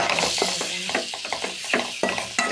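Masala being stirred into a mushroom gravy in a pan, a spoon scraping and clinking in repeated short strokes over a soft steady sizzle, close and fairly loud.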